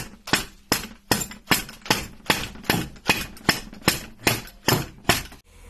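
Rubber mallet striking a part on a Simson S38 motorcycle engine during disassembly, about a dozen evenly spaced loud, dull thuds in a steady rhythm, close up with no talking.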